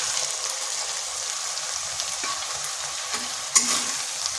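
Small spiced potatoes sizzle and fry steadily in a pan for a slow-cooked aloo dum while a spoon stirs and scrapes them, with one louder knock of the utensil near the end.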